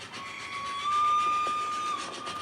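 HO scale model BNSF Dash 8-40BW diesel locomotives rolling along layout track, a steady mechanical rumble with a sustained high whine running through the middle, close and moderately loud, no voices.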